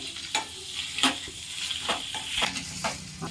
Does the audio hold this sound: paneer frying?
yes